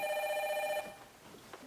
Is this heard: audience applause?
no